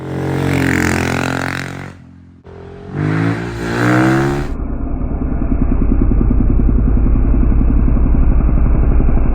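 Kawasaki ZX-600 sports motorcycle engine runs loud and close: revving hard, a brief dip, another rev, then a steady rough idle with a throbbing, clattery low tone.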